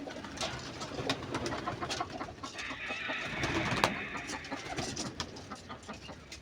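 Giribaj pigeons coo repeatedly in a loft, soft low throaty calls overlapping with scattered wing flutters and light clicks, fairly faint and close.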